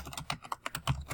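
Someone types an author's name into a computer keyboard, a fast run of close, crisp keystrokes in an irregular rhythm with no talking.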